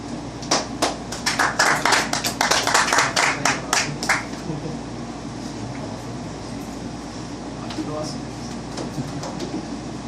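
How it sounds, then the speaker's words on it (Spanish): A church congregation claps to welcome its pastor in a short burst of rhythmic applause that lasts about four seconds. It fades into room murmur and a speaking voice. "vamos a recibir con un aplauso al pastor Alejandro."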